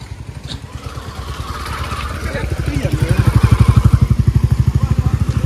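A motorcycle engine runs close by with a fast, even chugging pulse that grows louder over the span, and a voice speaks briefly above it.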